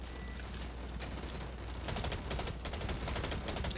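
M4X rifle in the game Blacklight Retribution fires in rapid sustained bursts, a dense continuous rattle of shots filling the whole clip with no talking over it.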